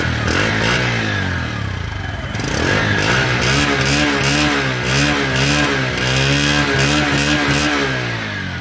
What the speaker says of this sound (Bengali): এখন দেখাবো হচ্ছে বাইকটি সাউন্ড কোয়ালিটি এবং পারফরমেন্স।